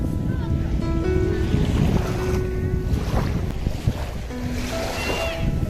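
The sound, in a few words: sea waves at La Mer beach, Dubai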